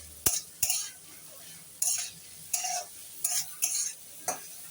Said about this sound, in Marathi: याला 2 मिनिटं चांगलं फ्राय करून घ्यायचं आहे.